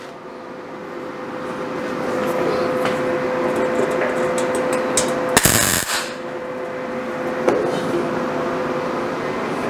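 A brief tack weld crackles on a custom Ford F100 truck bed, one short sharp burst over a steady shop hum and rattling background noise.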